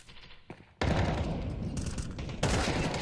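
Counter-Strike gunfire at a PGL Cluj-Napoca 2025 match bursts in loud and sustained, with rapid overlapping shots that swell again near the end after a quieter opening.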